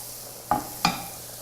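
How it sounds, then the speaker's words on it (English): Two quick stirs of a spoon through a sauce with jalapeno and chipotle in a pan, two brief close scrapes over a low sizzle, with no voices. "Give it another quick stir"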